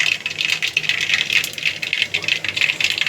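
Mustard seeds pop and crackle in a hot pan, a rapid, irregular rattle of sharp little bursts that stays close and busy over a faint kitchen background.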